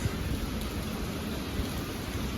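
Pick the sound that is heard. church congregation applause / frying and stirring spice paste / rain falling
rain falling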